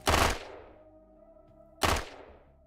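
Two sharp pistol shots from an enemy in the tactical video game Quasimorph, about 1.8 seconds apart. Each loud crack fades into a short ringing tail over quiet game ambience.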